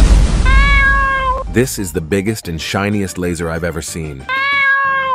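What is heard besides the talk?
cat meowing in a Bloons TD 6 video game animation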